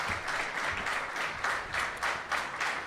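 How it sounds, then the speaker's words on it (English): A round of audience applause at a live debate show, fairly faint and distant, with clapping pulsing in uneven waves for a few seconds. "keep that round of applause going"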